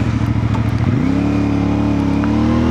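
A CF Moto 450 MT motorcycle engine pulls under way, a loud close throbbing that rises in pitch as it accelerates after the first second, then holds a smooth, steady drone.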